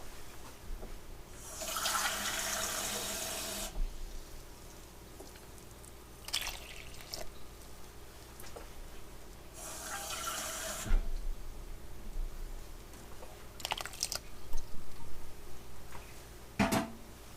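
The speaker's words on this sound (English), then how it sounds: "So 2 1/2 cups of warm water into this." Warm water pours into a bowl for bread dough in several bursts, a long stream followed by shorter splashes, close by with quiet gaps between.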